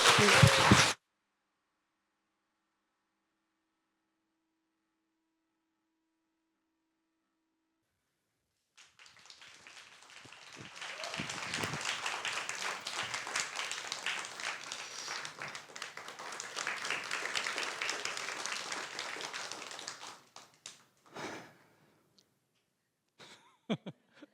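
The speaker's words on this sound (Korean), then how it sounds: "큰 박수 부탁드리겠습니다" Audience applause at a pansori performance, honoring the singer and drummer: after a brief loud burst and a long silence, a sustained round of clapping swells for about twelve seconds, then fades to a few scattered claps.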